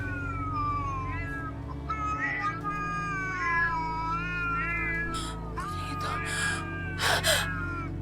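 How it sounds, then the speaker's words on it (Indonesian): Several cats meow and caterwaul in a steady run of drawn-out, wavering cries over a constant low background hum, with brief gasping bursts near the end. "Ini kucing-kucing yang mengambil perhiasan dan uang aku juga, Wan."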